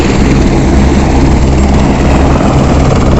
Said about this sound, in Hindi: ये हेलीपैड यहाँ का, और यहाँ दो हेलीकॉप्टर इस समय उतर रहे हैं।